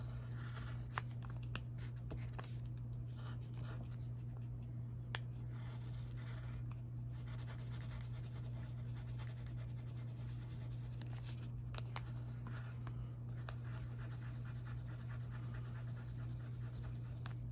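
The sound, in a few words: drawing face details on a Hatsune Miku puppet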